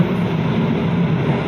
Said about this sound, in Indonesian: Dan ini kita bertemu dengan suatu kereta.